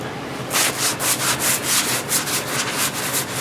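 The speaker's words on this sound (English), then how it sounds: "I got my sander here too." A hand sander works a rusty, cruddy metal surface in rhythmic back-and-forth strokes, about a dozen scratchy rasping pulses, close and fairly loud, without talk.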